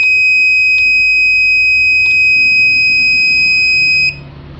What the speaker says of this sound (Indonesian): maka si buzzer akan berbunyi